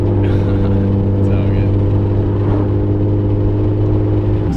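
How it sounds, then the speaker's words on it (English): A procharged V6 Ford Mustang engine roars at sustained high revs during a burnout, a loud, steady drone close up, with voices talking over it. "I want to rip a fat burnout, but I don't want to rip through your tires."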